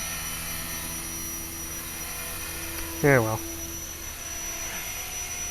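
A steady high-pitched whine of a small HK 450 model helicopter hovering nearby, with someone briefly speaking partway through.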